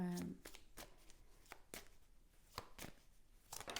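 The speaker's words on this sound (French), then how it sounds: "Je vais tirer d'autres cartes pour plus vous décrire" Tarot cards drawn and shuffled during a reading, giving soft papery flicks and slaps in an irregular series close by, with someone speaking French over them.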